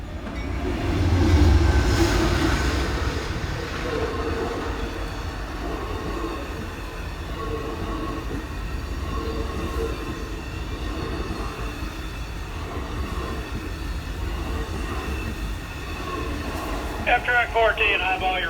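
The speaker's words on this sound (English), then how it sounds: "Amtrak 14 Coast Starlight glides north toward Seattle on the main line" Amtrak 14 Coast Starlight passenger train rolling north along a Union Pacific main line in the Cascades, a steady close rumble of wheels and cars with rhythmic clatter and brief squeals near the end.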